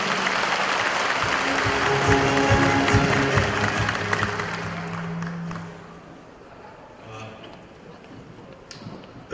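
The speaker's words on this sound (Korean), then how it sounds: "다시 한번 큰 박수로 환영해 주십시오." An audience at a commemoration ceremony for a Goryeo general's 800th birth anniversary claps in steady, full applause for several seconds, then fades as a lone voice begins speaking over a quiet hall.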